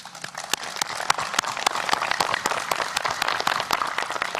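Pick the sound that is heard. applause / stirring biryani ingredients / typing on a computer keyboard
applause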